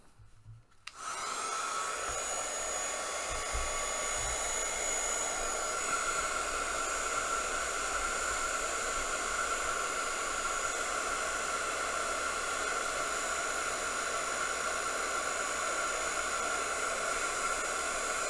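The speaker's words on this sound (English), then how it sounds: "Now, heat gun." A heat gun used for embossing on a craft piece switches on and blows with a constant, fairly quiet airy whoosh and a faint whine, running unchanged for a long stretch with no talking.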